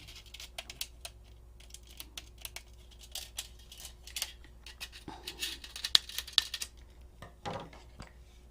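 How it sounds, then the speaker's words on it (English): Scissors snip a hole in the bottom of a colander in a series of faint, sharp clicks and cuts, irregular and close in a quiet room. "So all I'm going to do is to cut a hole in the bottom of my colander."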